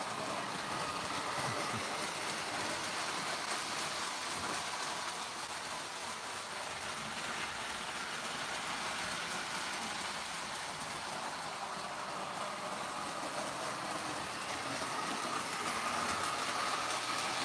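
A model train engine runs on a home layout, giving a steady, faint rolling rumble and clatter from nearby track that continues evenly throughout with no voices.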